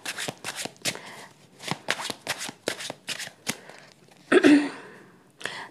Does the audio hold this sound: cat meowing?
no